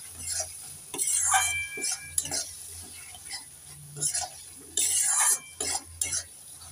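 A spoon stirs turmeric and chilli powder into fish curry frying in a pan. Scraping strokes and light metal clinks repeat irregularly over a steady soft sizzle, close by, with no talking.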